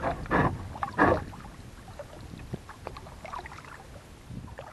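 Two soft kayak paddle strokes splash close by in a sheltered cove, followed by quiet dripping and gentle water sounds in a calm, still setting.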